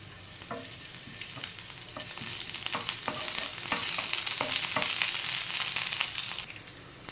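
Chopped garlic sizzling in a little hot oil in a pan, a loud steady crackling fry with occasional stirring clinks.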